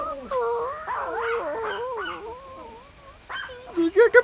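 A dog gives a run of whining, whimpering yelps and then a few sharp, louder barks at the end, close by with some talking around it.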